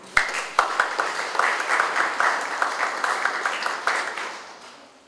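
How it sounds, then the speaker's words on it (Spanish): A conference audience applauds an arriving speaker, a dense steady burst of clapping with a few sharp individual claps at the start, lasting several seconds at moderate loudness. "La recibimos con fuertes aplausos"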